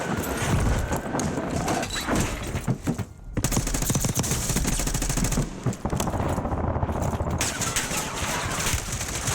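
Rapid automatic gunfire in Warzone, sustained rattling bursts with brief pauses, loud and close over busy game ambience.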